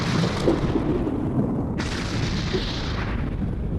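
A giant cannon blast from the One Piece anime: a deep, heavy explosive roar rumbles continuously and loudly through the whole stretch, with no voices.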